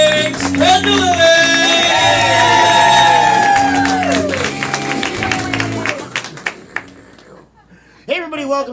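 A comedy club audience bursts into loud applause, cheers and whoops for the host, swelling then fading as a voice speaks over it.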